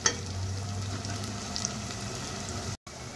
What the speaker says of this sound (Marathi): कांदा आपण थोडासा परतवून घेऊया।